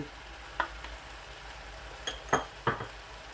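Spices are stirred into arvi (taro root) with onions in a hot pan, a spoon scraping and clinking against the metal in several short strokes over a soft sizzle.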